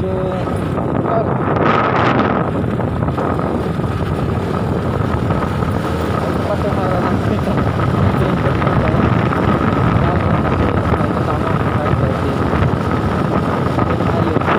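A motorcycle ridden along a super highway in Zamboanga City, with loud, constant wind buffeting the microphone and a steady engine drone throughout, masking other detail.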